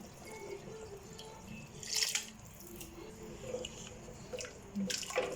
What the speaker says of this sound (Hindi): पानी डाल दिया है अब हमने।